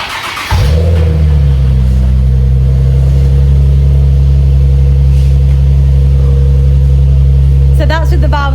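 A Nissan 370Z fitted with a Z-pipe exhaust cranks and fires up, then settles into a loud, deep, steady idle rumble close by, with brief voices near the end.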